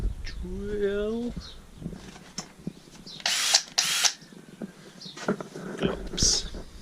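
Two short, loud bursts of a power drill whirring in quick succession, following some speech-like sounds and a higher voice, with light clatter after.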